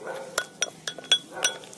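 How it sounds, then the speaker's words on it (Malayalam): A spoon clinks against a bowl while oat powder and papaya pulp are mixed into a scrub: five or six bright, close taps at irregular intervals with faint scraping between them. "നന്നായിട്ട് എന്നിട്ട് മിക്സ് ചെയ്തെടുക്കാം."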